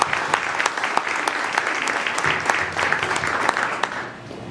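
Crowd applause at a Mission Barbecue restaurant gathering, sustained clapping with sharp individual claps standing out close by, steady for about four seconds before dying away.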